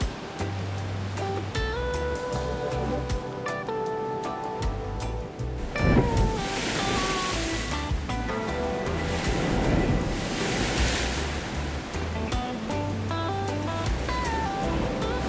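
Ocean waves roll onto the beach at Playas del Coco, Costa Rica, a loud surge crashing and washing through the middle after calmer background sound, with wind noise.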